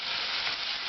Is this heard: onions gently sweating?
yes